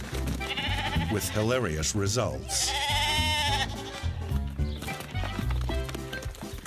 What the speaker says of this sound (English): Being sheep, unfortunately, when one little bleater makes a bolt for it, the rest of the flock have to follow